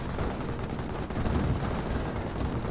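A continuous roar of combat, dense overlapping gunfire and rumbling, as a Panzer IV assaults a machine gun bunker in Company of Heroes, steady and loud without any pause.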